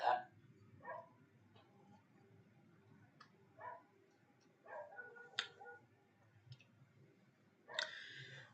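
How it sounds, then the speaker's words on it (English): A neighbor's dog barks in the distance, a handful of faint, spaced-out barks over steady low background hum, with a louder burst near the end. "neighbor's dog barking"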